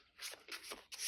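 Tarot cards from a Luminaries deck being shuffled by hand, a soft papery riffle in several short bursts over about a second, quiet and close with no talking.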